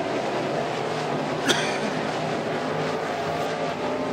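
Dirt late model race cars in a NeSmith series heat race at Greenville's Gumbo Nationals, a steady roar of engines on the dirt track with one sharp brief crack midway, loud and continuous, no talking.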